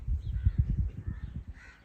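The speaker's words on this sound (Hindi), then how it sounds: "वो है जी कौवे।" Crows caw repeatedly near a village house in rural Pakistan, a run of harsh, close calls in quick succession through the whole stretch, with no voices.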